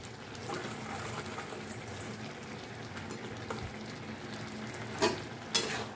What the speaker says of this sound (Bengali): এবার আমি এই বড়াগুলো দিয়ে দিচ্ছি